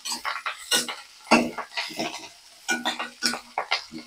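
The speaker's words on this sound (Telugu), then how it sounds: "ఎండుమిరపకాయలు వేసేసి దోరగా వేగనివ్వండి." Dried red chillies frying in a small amount of tempering oil for a beetroot dish, soft crackling sizzle mixed with a spoon scraping and clinking against the pan in short bursts, close and fairly quiet.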